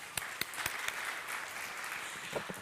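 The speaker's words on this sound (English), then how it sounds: "Give her a round of applause." Quiet, distant audience applause at the Namibia International Energy Conference 2023: a soft, scattered ripple of clapping from a hall crowd with a few sharper nearby claps standing out.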